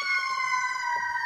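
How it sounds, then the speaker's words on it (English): A fire truck siren wails steadily at a distance, a sustained high tone over faint low traffic rumble, brief and unbroken. "Fire truck going past down my street."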